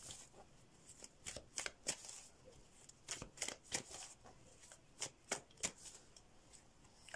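Rider-Waite tarot cards are shuffled close up in repeated quick riffling bursts, with short pauses between the bursts and no voice.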